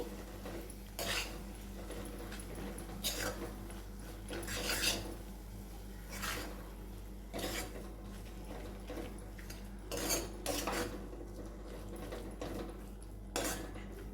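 Spoon stirring and scraping gongura rice inside a metal pot, a series of rasping scrapes every second or two at close range, with a steady low hum underneath and no talking.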